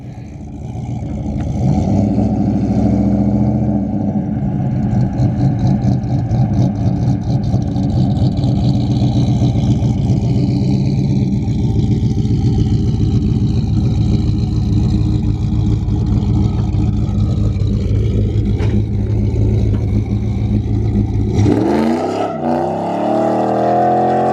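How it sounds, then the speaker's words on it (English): Street car on drag radials with double adjustable shocks launching hard, a loud, sustained low engine roar with the tires spinning for about twenty seconds, ending abruptly as the throttle is lifted. "Yeah, I mean it spun, but it moved at least."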